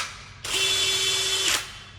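A power drill bores a hole into the side skirt of a Lancer, one loud, steady high whine lasting about a second with a sharp start and stop, no talking.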